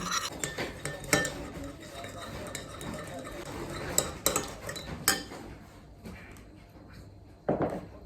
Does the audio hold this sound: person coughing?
no